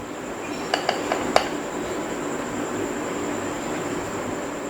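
Sweet colourful mutanjan rice being dished out into a serving dish, a few light clinks of a spoon against the dish early on over a quiet background, no talk.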